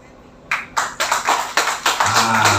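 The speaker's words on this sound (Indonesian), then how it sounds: "Kasih aplaus dari Labuan Batu" Audience clapping for partners from Labuan Batu at a business event, coming as a run of separate loud bursts about every quarter second, some with a faint murmur underneath.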